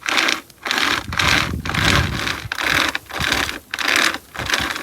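Small SOG pocket chainsaw, a hand-pulled chain, sawing through a small tree limb in steady back-and-forth strokes, a rasping, scratchy cut repeating about once per second, close and fairly loud.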